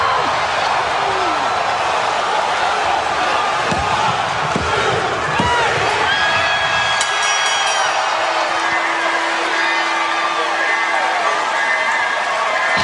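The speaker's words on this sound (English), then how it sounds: "The crowd goes crazy" A wrestling crowd roars loudly for Jeff Hardy at a steel-cage event, a dense sustained wall of cheering with thuds and shouts mixed in, and a voice talking over it.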